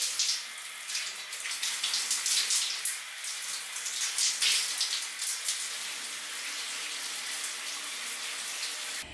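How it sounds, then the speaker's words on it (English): A shower runs steadily during a morning body wash, a close, constant hiss of spraying water with no voices, holding an even level throughout. "I jumped straight in the shower as I was so sweaty"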